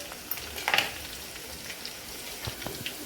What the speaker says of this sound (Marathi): दोन चार हिरव्या मिरच्या कापून टाकायच्या आहे अशा उभ्या चिरायच्या त्या आणि टाकायच्या फोडणीमध्ये याला पण छान असं परतून घ्यायचं आहे